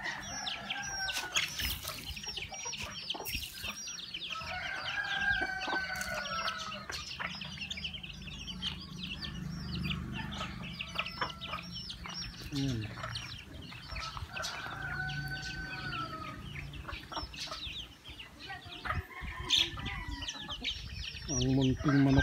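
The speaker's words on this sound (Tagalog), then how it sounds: "Ang munting manok" Jersey Giant chickens clucking and calling at feeding time, with repeated close clucks and occasional crowing over a busy farmyard background while a person talks quietly at times.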